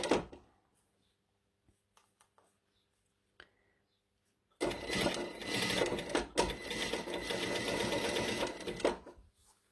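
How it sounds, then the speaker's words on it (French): Sewing machine stitching fabric for a T-shirt, re-sewing over an existing seam. A few faint clicks and taps give way to a sudden, loud, continuous run of rapid mechanical stitching that lasts to the end. "Et là, je repique sur mes points, sur ma piqûre que j'ai faite."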